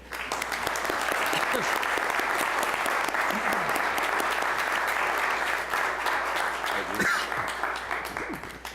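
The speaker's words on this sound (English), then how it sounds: "Why don't you stand up and we'll give you a round of applause too." A round of applause at a city council meeting, dense clapping from a seated crowd that stays steady for several seconds, with occasional voices under it.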